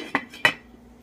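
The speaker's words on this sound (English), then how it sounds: "I'm going to put this lid on it just to speed things up" A lid goes onto a pot of boiling Diet Coke with two quick, close metallic clanks, followed by a faint low simmer.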